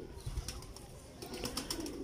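Lal pari pigeons cooing in a pair, soft low throaty coos repeated a few times at close range, faint and unhurried, alongside light rustling.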